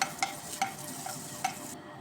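Ginger garlic paste sizzles in oil in a pan, a soft steady crackle with a few sharp clicks from stirring, close and quiet, with no speech.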